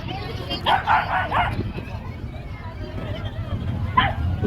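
A few sharp dog barks in short bursts, somewhat distant, over steady wind and outdoor background noise at the seaside by the Mall of Asia.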